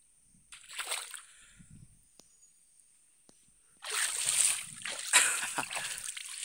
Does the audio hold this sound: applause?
no